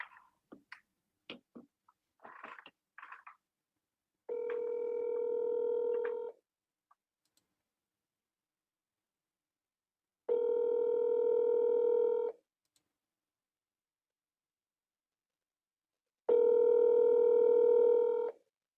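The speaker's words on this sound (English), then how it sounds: "we'll let you call till you get someone on the phone" Telephone dialing on an outgoing call: three long, steady tonal bursts of a few seconds each, evenly spaced with silence between, after a short run of brief clicks and keypresses at the start.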